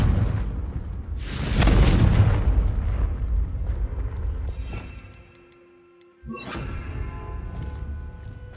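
The Confringo blasting spell in Hogwarts Legacy goes off as a deep, booming explosion with a rumbling tail. After a brief lull, a sharper crackling burst and clinking debris follow, loud and close.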